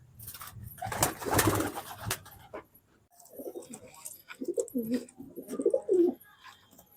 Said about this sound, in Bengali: আরেকটা পায়রা দেখাই, আমার খুব শখের পায়রা